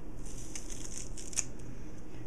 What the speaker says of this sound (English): You can just take your scissors or a sharp knife and do the majority of it.